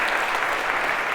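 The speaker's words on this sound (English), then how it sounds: "a round of applause for your accuracy" Lecture hall audience breaking into a round of applause during a university computer science class, steady dense clapping filling the whole short moment without talk.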